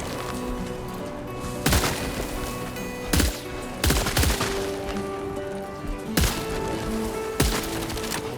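Bursts of rapid automatic gunfire from a weapon in Death Stranding 2, loud and close, separated by sharp single reports over a steady background din, with no talking.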